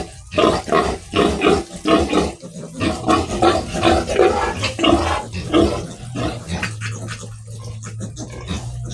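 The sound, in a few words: piglet squealing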